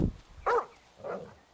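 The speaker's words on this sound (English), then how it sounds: "Why is he talking to a dog?" Dog barking in Grand Theft Auto V, two or three short separate barks spaced about half a second apart, moderately loud and heard alone.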